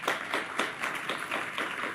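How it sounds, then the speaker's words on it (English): A round of applause at a school district board of trustees meeting, steady rhythmic clapping from a modest audience, moderately near and without speech over it. "Let's give her a round of applause."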